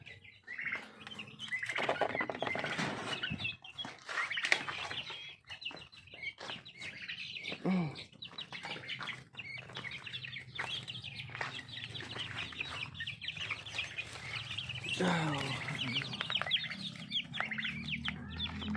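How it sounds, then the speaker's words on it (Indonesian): Chickens and ducks cluck and call continuously at feeding time on a small backyard farm, a busy close chorus of overlapping clucks and chirps with a few sharper squawks, with no talking. "kasih makan ayam dan entok teman-teman"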